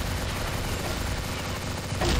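A Steyr TMP submachine gun in the zombie mode of Đột Kích fires in a dense, unbroken automatic burst, loud and close, with a sharper crack near the end.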